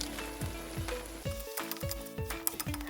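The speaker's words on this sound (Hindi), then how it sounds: "अब ये सारे मसाले हम भुनेंगे।" Turmeric, red chili powder and pav bhaji masala sizzling and frying in a pan, a steady close crackle with periodic stirring scrapes and clinks of a spoon against the pan.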